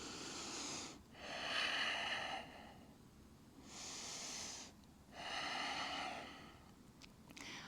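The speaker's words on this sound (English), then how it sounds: "2 more breaths" Slow, steady breathing during a stretching exercise, two long airy breath cycles close to the mic, each inhale and exhale clearly audible against a quiet room.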